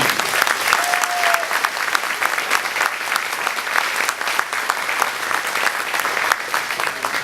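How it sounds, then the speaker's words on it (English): A dinner crowd at the Sun 'n Fun aviation event applauds Dick Rutan with loud, sustained clapping from many hands. It carries on unbroken for several seconds, with a brief whistle-like tone near the start. "Ladies and gentlemen, please, a big round of applause for Dick Rutan"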